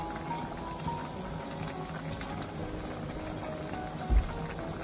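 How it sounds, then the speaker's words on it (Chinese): Water boils at full heat in a wok with dumpling wrappers, giving a steady, dense bubbling and hissing wash with one soft knock near the end. "继续开大火，把锅中的水煮开，把饺子皮煮熟"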